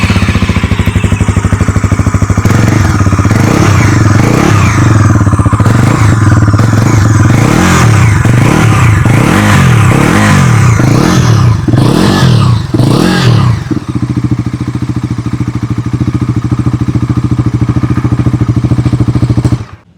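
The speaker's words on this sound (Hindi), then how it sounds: "आइए एक बार सुन लेते हैं इस नए इंजन की एग्जॉस्ट नोट।" A 2026 Bajaj Pulsar NS 350z motorcycle's new engine revs in a series of rising and falling blips over a steady exhaust rumble, then settles into a loud idle before cutting off.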